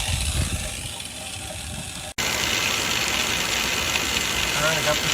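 A homemade metal drilling rig runs steadily, drilling out seized exhaust bolts, with a continuous loud motor-like drone and some grinding, broken by a brief dropout partway through.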